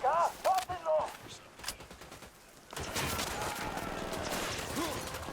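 Bursts of Ghost Recon Wildlands gunfire erupt against enemy soldiers in a dense, continuous crackle. Brief whistling, voice-like tones come first, then the shooting fills the rest of the moment at moderate loudness.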